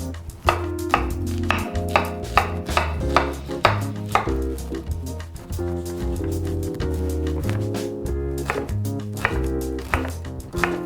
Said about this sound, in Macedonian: Кромидот фино го исецкавме и ќе го ставиме по маслото да почне да се пржи од тивко.